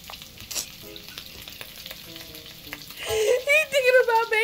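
Bacon sizzling and frying in the video game Psychonauts 2, a steady crackle that swells louder midway with bright tonal game sounds over it.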